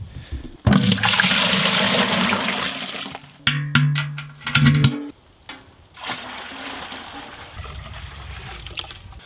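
Maple sap gushes and splashes as it is poured out of a bucket, a loud liquid rush broken by short gurgles and a trickling stream near the end.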